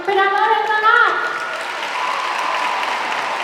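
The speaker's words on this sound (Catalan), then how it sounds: "un fort aplaudiment per a Loren Donat" A crowd at the Fonteta arena applauds during the gala selecting candidates for Fallera Mayor of Valencia 2025, with a voice ringing out over the first second before steady, broad clapping takes over and holds to the end.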